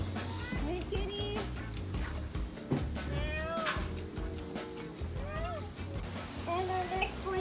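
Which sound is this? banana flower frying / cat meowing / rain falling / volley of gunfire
cat meowing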